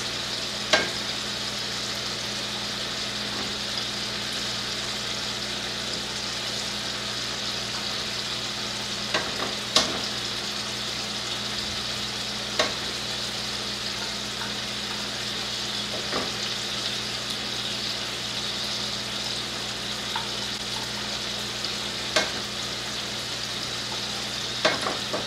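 Tomato paste sizzling in a hot pan for lasagna sauce, a steady bright frying hiss with occasional sharp clicks of a utensil stirring and scraping, close and continuous with no voices.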